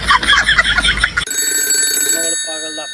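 A phone rings with an incoming call after a stretch of voices, its electronic ringtone sounding as steady tones and then short repeating beeps, close and clear.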